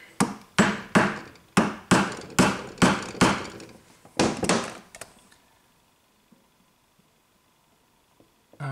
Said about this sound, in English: we might just try and give it a little go with the chisel again here